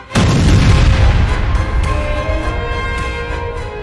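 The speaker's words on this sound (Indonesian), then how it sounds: "menimbulkan ledakan dahsyat" A single loud, deep boom of an explosion hits suddenly, then a long rumbling roar slowly fades out.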